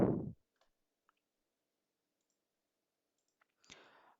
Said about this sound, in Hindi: एक्सेप्ट पे क्लिक करेंगे